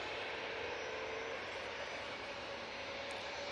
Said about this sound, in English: Right, Max 8 on the roll.